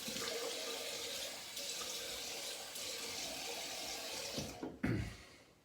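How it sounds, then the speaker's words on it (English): Cold tap water running steadily into a sink while alum is rinsed off shaved skin, a close, continuous splashing rush that briefly shifts and splashes harder near the end, with no talking. "I'm gonna rinse the alum off with cold Swedish water."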